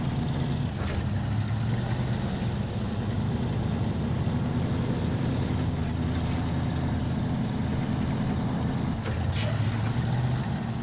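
A heavy truck engine drones steadily in the off-road driving video game SnowRunner, a low continuous rumble that shifts slightly in pitch, with brief hissing bursts near the start and end.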